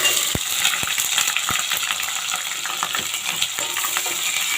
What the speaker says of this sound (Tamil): சின்ன வெங்காயத்தை நல்லா வதக்கிக்கலாம்.